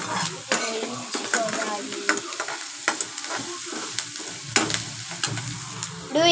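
Onions sizzle and fry in a pan for spicy egg rice, with a loud, continuous crackle punctuated by repeated stirring scrapes and clinks of a spoon against the pan.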